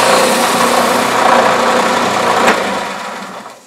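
A loud motorized sander whine runs steadily while shaping a wooden angel ornament, then spins down and fades toward the end as the machine is switched off.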